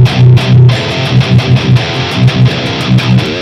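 A distorted electric guitar riff played through an Axe FX processor, dialed in to recreate a lead tone from a Marshall JMP1 preamp, loud and rhythmic with choppy, repeated chugging notes and no talking.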